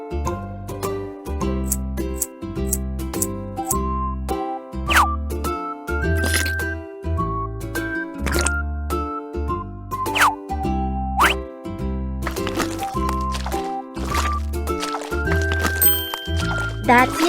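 Cartoon baking scene of stirring honey and sugar for cookies, heard as bouncy music with rhythmic low plucks and bright clinks, boings and plops throughout, no speech.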